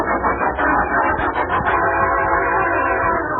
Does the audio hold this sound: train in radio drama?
yes